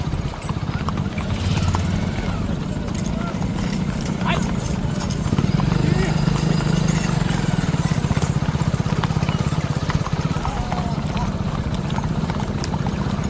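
Mares walk along a road with a steady clip-clop of hooves over a continuous low engine-like rumble, while people talk nearby and a whinny briefly rises above the walking.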